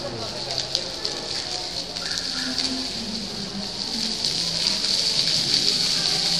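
Water splashes steadily in an indoor fountain at SM Southmall, a continuous hiss of falling spray with people talking nearby.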